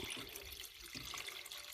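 Saved alum mordanting water pours steadily into a dye pot, a continuous close splashing trickle running the whole time with no talk over it.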